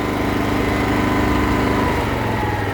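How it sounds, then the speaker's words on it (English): A greenkeeping mower's small engine runs loud and close, its steady drone rising in pitch as the throttle lever moves toward faster speed, no talk over it. "Quite obviously, if you go towards the hare, the engine goes quicker."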